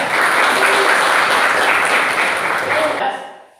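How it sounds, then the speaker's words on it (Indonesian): Applause from a class for a student who earned the highest score: steady clapping from many hands that fills the clip, with a voice speaking over it before it fades out. "Tepuk tangan untuk Mbak Madia"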